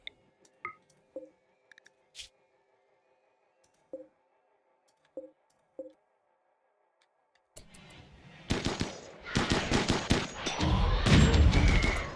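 Gunfire in RimWorld: a few sparse, faint clicks and shots early on, then a dense, loud burst of rapid overlapping fire in the last several seconds, with no talk.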